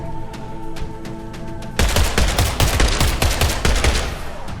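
Assault rifle gunfire in the video game Ascender: after a quiet stretch with a steady tonal hum, rapid loud automatic bursts break out and continue in a dense, rattling stream of shots to the end.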